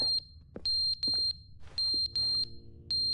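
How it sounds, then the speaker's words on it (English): A smoke alarm in The Stanley Parable video game sounds a string of sharp, high electronic beeps in uneven bursts, loud and close, with faint thuds between them. "That's a smoke alarm?"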